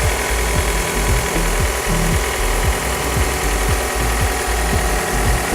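A Honda Accord engine with about 240,000 on the clock idles steadily with no talk, a continuous low rumble under a faint repeating mechanical ticking.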